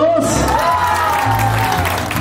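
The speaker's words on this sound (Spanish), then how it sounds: "El aplauso para la número dos." An audience claps for the second contestant at an informal singing contest in Zapopan, with brief, fairly loud applause over a continuous low music bed.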